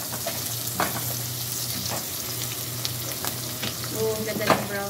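Garlic frying in a pan for garlic fried rice served with dried fish, giving a continuous bright sizzle with occasional stirring scrapes and pops, close and steady.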